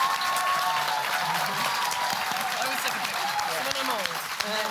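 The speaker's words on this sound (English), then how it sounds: "Please give them the biggest round of applause of the night." An audience at a PAX West 2024 convention panel applauds loudly and continuously, with dense clapping and a few voices calling out beneath it.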